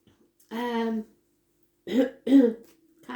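Several short, rough throat-clearing bursts come close up, one longer rasp followed by two quick grunting clears after a pause.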